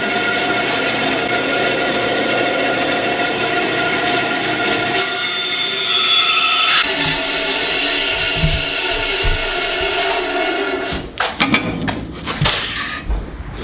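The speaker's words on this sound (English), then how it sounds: "now it will ride nice and flat and safe on my bandsaw" A bandsaw rips through a log of firewood to make lumber, giving a steady, loud whine with a continuous cutting drone, a brief harsher, higher stretch midway, then rougher, uneven bursts as the cut finishes.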